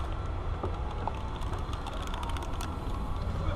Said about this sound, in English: Let me see if I can open the door.